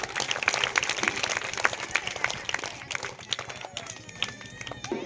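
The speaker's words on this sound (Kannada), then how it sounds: "ಹಲವು ಜೋರದ ಚಪ್ಪಾಳೆಯೊಂದಿಗೆ ಸ್ವಾಗತಿಸಬೇಕು" An audience at a children's anganwadi annual gathering gives dense, steady applause to welcome guests, with many hands clapping together for several seconds and voices faintly mixed in.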